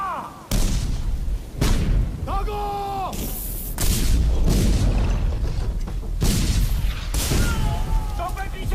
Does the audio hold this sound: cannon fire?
yes